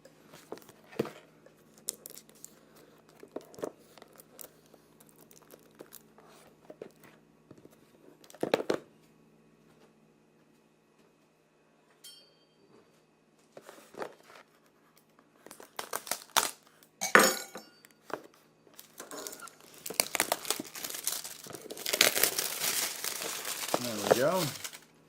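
Packaging for a USB 3.0 card being opened by hand: intermittent crinkling and tearing of plastic and paper with occasional light clinks, sparse at first and then denser, louder rustling toward the end.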